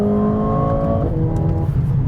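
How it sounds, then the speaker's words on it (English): A 2020 Mercedes CLA45 AMG engine roars loudly up close, its revs dropping and shifting as the car downshifts from fifth gear into a corner, with no talking. "We're in 5th gear, so let's have the gas on and just gear down."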